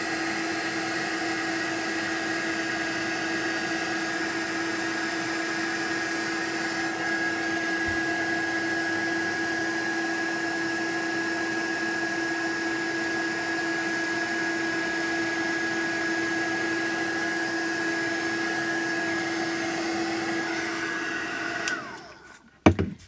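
Steady whirring hum of a heat gun held over melting embossing powder on a stamped flower card, running continuously at close range before abruptly shutting off near the end.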